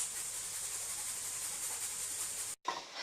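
Chopped garlic, red chilli and ginger sautéing in a pan make a steady hissing sizzle, even and moderately loud, cutting off abruptly near the end before a brief fainter return.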